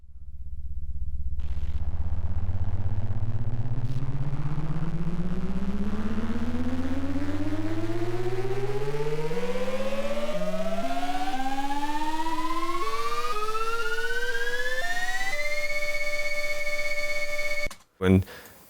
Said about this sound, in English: There's just these two sound effects I made in my Korg mini log.